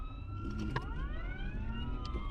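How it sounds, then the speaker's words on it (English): Ambulance siren wailing in the background on a city street, its tone sweeping and dropping in pitch as it passes, steady and moderately distant under road and engine noise. "We got an ambulance there. You'll see it in the background here."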